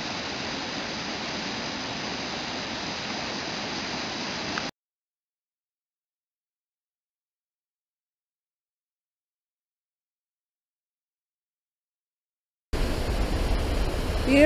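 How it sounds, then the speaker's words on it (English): Steady broadband roar of a river pouring over a waterfall at Crescent Falls in Alberta, loud and continuous for several seconds, cutting to silence, then returning. "That's where it goes over the waterfall."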